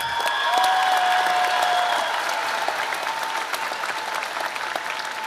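A crowd applauds steadily at a 2024 Fort Dorchester graduation ceremony, honoring the salutatorian with a dense, sustained wash of clapping that holds for several seconds, with faint tonal sounds drifting over it early on.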